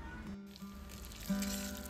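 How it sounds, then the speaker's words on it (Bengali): Ghee with whole cumin, green chilli, garlic and dried chilli frying in a wok, giving a soft, faint sizzle with a brief louder burst near the end, and no one talking. "তারপর আবারও কড়ার মধ্যে ঘি, গোটা জিরে, কাঁচা লঙ্কা, রসুন, শুকনো লঙ্কা সব সুন্দর করে দিয়ে ভাজা ভাজা হতে দিলাম"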